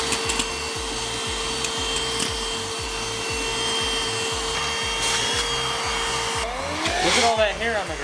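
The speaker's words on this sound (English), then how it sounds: "This handy vacuum is no joke." A small handheld vacuum cleaner motor whirs loudly and steadily with a rhythmic pulsing hum, shifting pitch near the end as it moves against a surface.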